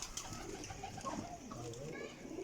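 Young pigeons at a parwazi breeder's loft coo in low, soft, rolling calls, faint and close, with a murmur of voices in the background.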